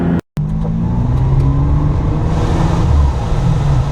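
A Ferrari 550 Maranello's engine holds a strong steady drone from inside the car on a bumpy road, swelling slightly toward the end after a brief dropout at the start.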